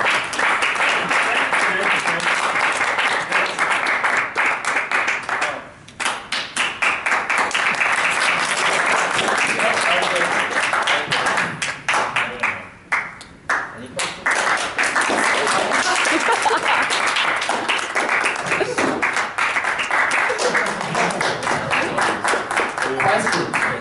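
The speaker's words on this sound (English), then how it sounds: "They're applauding." Sustained applause from a convention panel audience, loud and steady, with a couple of brief dips before the clapping swells again.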